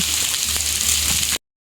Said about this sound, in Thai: น้ำไหล จากหิน นะคะ ตาม ต้นไม้ หยดสวยมากค่ะ